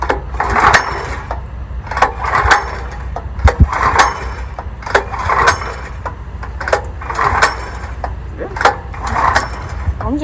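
Small gas engine on a pressure washer being pull-started, with repeated rhythmic surges of engine noise and mechanical clatter roughly every second, fairly close and loud, with some voices underneath.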